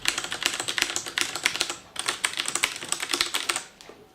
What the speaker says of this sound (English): Cherry MX Red switches, for anyone who doesn't know, these are the ones with the lightest touch and no clickiness